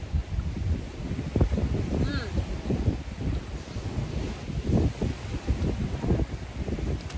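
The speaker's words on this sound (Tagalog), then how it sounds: "Mahangin. Sarap ng hangin." Seaside wind gusts buffet the microphone in uneven bursts, with a low rumble of surf behind and a brief bird call partway through; outdoors on a breezy coast.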